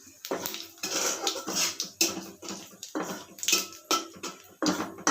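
Dried red chillies and a pinch of white cumin being stirred in hot oil in a pan for a fish curry tempering, with repeated scraping, clinking strokes and a hissing sizzle in close, rhythmic bursts.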